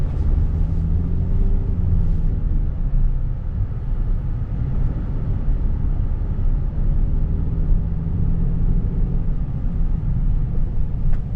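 A 2018 Nissan 370Z NISMO being driven gives a steady, loud low engine and road rumble from inside the cabin, continuous throughout with no talk.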